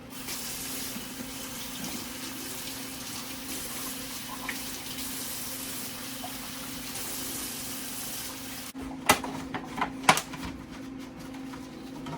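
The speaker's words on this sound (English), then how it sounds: "wash up my lettuce and my tomatoes and cut that up while I'm waiting." Tap water running steadily into a sink while lettuce and tomatoes are washed, a constant close hiss, followed by a few sharp knocks and handling clatter near the end, with no speech.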